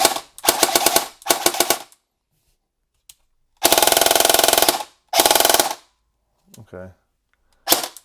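Bursts of rapid full-auto fire from a KWA MOD 2 airsoft AEG, loud and close, several strings of snappy clicking shots separated by pauses, with a short spoken word in between.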